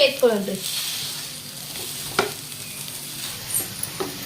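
Boiled potatoes for aloo kachori are mashed in a pan over a very low gas flame, making soft, close squelching and scraping strokes with a faint sizzle underneath.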